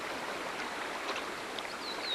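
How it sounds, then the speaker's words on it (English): A stream in a Grand Canyon side canyon flows steadily in a soft continuous rush, with a faint bird chirp near the end. "Some of the side canyons have ever-flowing streams."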